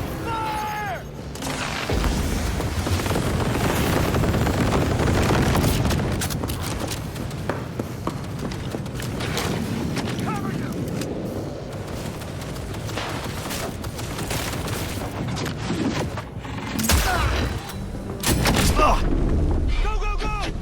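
Combat in the video game Cyberpunk 2077: sustained bursts of automatic gunfire and heavy booming explosions, loud and dense throughout with brief lulls, and voices shouting beneath the battle.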